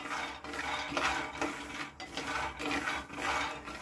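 Peanuts are dry-roasted over a low flame, stirred in a pan, giving a continuous rattling and scraping of nuts against metal with rhythmic swirling pulses, moderately loud and close, with no talk.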